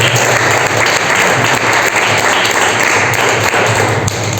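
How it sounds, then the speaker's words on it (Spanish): A congregation at a church service claps loudly and continuously for the Lord, a thick, sustained wall of applause with some thumping beneath it. "Denle un aplauso al Señor."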